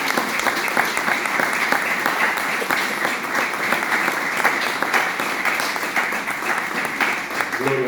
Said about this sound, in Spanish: así que recibimos con un aplauso